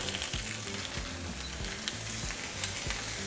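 Ground beef sautés with onion in hot oil for Mexican fried beef quesadillas, giving a dense, continuous close-up sizzle. A low rhythmic tonal layer runs underneath, with a few small crackles.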